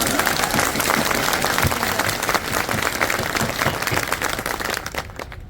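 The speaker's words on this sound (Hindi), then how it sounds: "तालियों की गड़गड़ाहट से इनका सम्मान किया।" Thunderous crowd applause at a public rally and thanksgiving meeting in Lahar, dense sustained clapping from a large gathering that carries on loudly before fading near the end.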